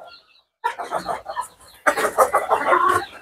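Small-breed chickens and a rooster on a poultry farm, clucking close by in short, bursty calls separated by a brief silence.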